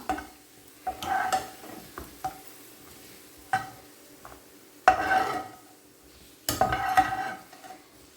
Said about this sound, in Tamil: நம்ம இந்த திராட்சை, காஞ்ச திராட்சை சேர்த்து வறுத்துக்கலாம்